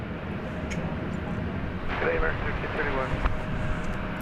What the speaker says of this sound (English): American Flight 2028, a 737-800 off to